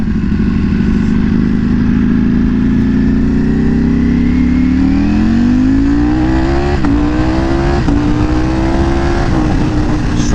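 Ducati Panigale V4S motorcycle engine revving hard and loud up close, pitch climbing steadily through the gears with brief dips at each upshift, with no talking.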